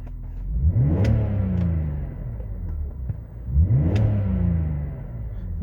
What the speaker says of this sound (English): I'll give it a very quick rev for you.